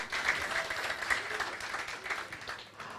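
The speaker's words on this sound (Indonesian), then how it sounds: "berikan tepuk tangan yang meriah." Audience applause at a talk show event on smart voting, a steady wash of clapping from a seated crowd that holds moderately loud throughout with no voices over it.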